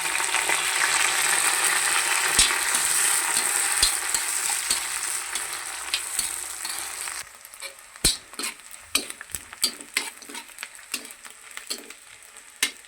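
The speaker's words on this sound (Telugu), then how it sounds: "ఆయిల్ హీట్ అయిన తర్వాత శుభ్రంగా కడిగి పెట్టుకున్న ఎండు రొయ్యల్ని వేసేస్తాం" Washed dried shrimp hit hot peanut oil for an Andhra gongura pickle, a loud crackling sizzle that gives way to quieter frying punctuated by sharp spoon-stirring clinks against the pan.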